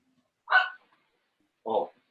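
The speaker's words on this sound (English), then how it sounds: "we don't need the dog barking" A dog indoors, heard during a livestream event, lets out two short, muffled barks about a second apart, with quiet between them.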